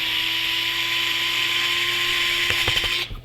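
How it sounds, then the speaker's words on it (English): A Hodo electric screwdriver drives screws into a blaster grip with a steady close whine that runs for about two and a half seconds, then a few quick ratcheting clicks as it stops, with no voices. "As always, Hodo electric screwdriver."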